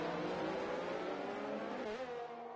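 Formula 1 race cars at the Canadian Grand Prix in a racing game, a dense, continuous engine roar with shifting pitch as cars pass, steady and loud, no voices.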